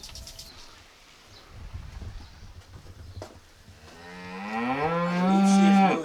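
A cow lets out a long, loud, close moo that swells toward the end, after quieter outdoor rustling.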